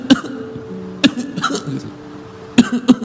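A voice imitates a driver's coughing, producing several sharp, close coughs spaced irregularly with brief voiced throat sounds between them.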